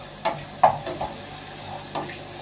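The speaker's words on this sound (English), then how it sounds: "I'm going to give these mushrooms a wee quick stir around." Mushrooms frying in a pan get a quick stir, a few soft scraping clicks over a low, steady sizzle, close and fairly quiet.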